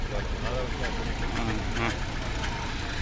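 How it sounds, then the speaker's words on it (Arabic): A DFSK double-cab pickup's 1.3-litre LPG-fuelled engine runs steadily with a low rumble throughout, while people talk over it. "الموتور تاعها راه ماشي"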